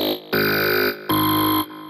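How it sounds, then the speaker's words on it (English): Sample-and-hold style synth lead patch from Vital, played in Bitwig: two bright, buzzy sustained notes with sharp onsets and clean cutoffs, loud and alone. "It's a sample and hold type of lead"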